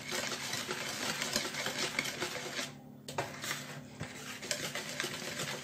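Cake batter being stirred with flour in a bowl, a steady close scraping and whisking clatter that pauses briefly midway, then resumes.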